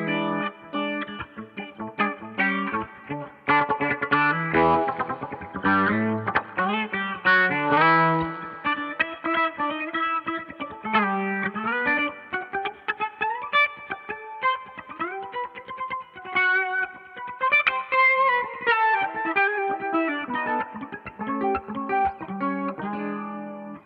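Electric guitar played through a Boss MO-2 Multi Overtone pedal with the detune raised slightly, giving a phasey, doubled tone; loud, continuous melodic phrases and chords for over twenty seconds, with no talk.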